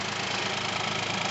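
A 2018 Hyundai Kona's 1.0 T-GDi three-cylinder turbo petrol engine holds a smooth, steady idle, heard close up as a continuous low thrum for a brief moment.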